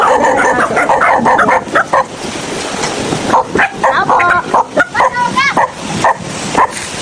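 A house dog barks over and over at a visitor in a rural riverside village, loud rapid yaps and yips in a rhythmic string, close by and mixed with voices and outdoor noise.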